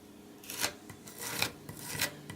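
An old plastic card scrapes filler across a stencil on a wooden writing bureau, several close rasping strokes in a loose rhythm, each a short gritty swipe.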